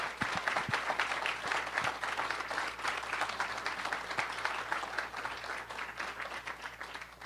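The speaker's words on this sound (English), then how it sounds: "So a round of applause for these guys." A room of attendees at a fellowship presentation event breaks into steady applause, dense clapping sustained at an even level for several seconds with no talk over it.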